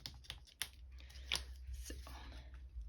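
A few quick snips of scissors trimming ribbon on a small paper gift bag for a pop-up card, close and fairly quiet, with light handling rustle around the cuts.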